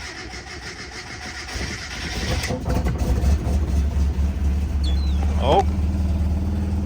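A Mazda Miata with a modified 1.8 liter intake cranks and catches, then settles into a steady, slightly rough idle close by, with a brief spoken exclamation over the engine noise.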